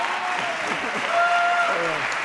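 Audience applause at the Goya awards ceremony, dense sustained clapping from a large crowd, with a voice speaking over it.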